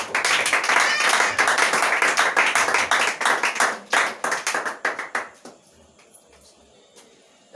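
A church congregation claps to acclaim the Lord, a dense, loud burst of applause that holds steady for several seconds before thinning into a few scattered claps and fading to near silence.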